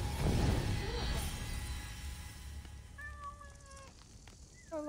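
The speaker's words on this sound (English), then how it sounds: "Yeah, pet the kitty." A cat meows in Assassin's Creed Origins, several rising tonal calls in the latter half, close and clear, following game speech and ambient noise at the start.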